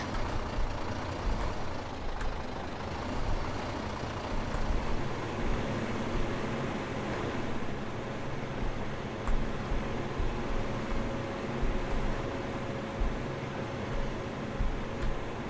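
A truck in Farming Simulator 15 drives steadily, a dense continuous engine drone and broadband rumble with faint hiss and small bumps throughout, no one talking.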